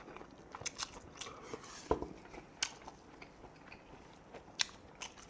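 Quiet bites and chewing of Taiwanese convenience store beef noodle cup noodles, a few soft crunches and slurpy mouth sounds spaced irregularly, close and faint, with no talking.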